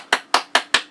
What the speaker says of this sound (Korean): 여러분 박수 칠 준비해 주세요.